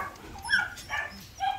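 A young Rottweiler puppy gives three short yips and barks at an even spacing, fairly close and over light background noise.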